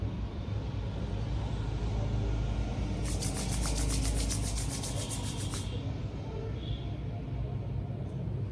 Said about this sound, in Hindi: दोनों हथेलियों से ऐसे हम रब करके इनमें हीट आएगी